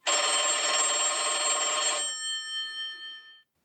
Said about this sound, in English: there's no way that phone line should be ringing